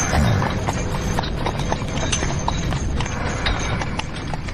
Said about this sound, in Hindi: आगे का रास्ता चढ़ाई वाला था, इसलिए घोड़े आराम से चल रहे थे।